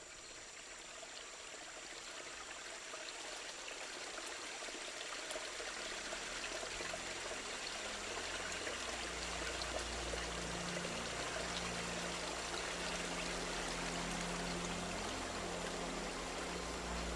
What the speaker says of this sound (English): The Las Piedras River is bursting its banks. Entire trees are carried away with the current.